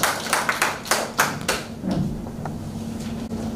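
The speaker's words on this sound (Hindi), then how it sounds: "आप जोरदार तालियों के साथ स्वागत करें कमल" An audience briefly welcomes the speaker Kamal Rathore with a few sharp, scattered claps that quickly thin out and fade, leaving quiet room tone.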